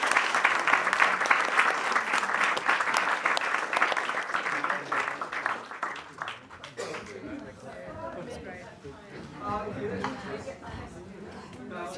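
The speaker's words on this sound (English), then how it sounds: "applause." Audience applause after an academic panel discussion on decolonising governance, a continuous round of clapping that thins out over several seconds as chatter and talking voices take over.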